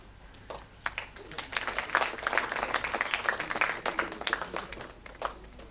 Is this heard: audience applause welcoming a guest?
yes